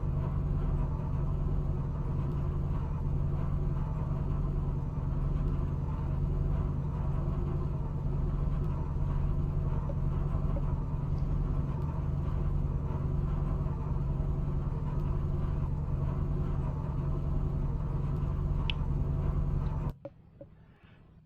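A continuous low engine drone rumbles steadily for about twenty seconds, a racing car heard from inside in the Automobilista 2 racing game, then cuts off abruptly.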